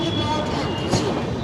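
Howrah Balurghat Express halting at Bandel Junction, a steady low rumble of the train and station noise close by, with a faint murmur of voices in the background.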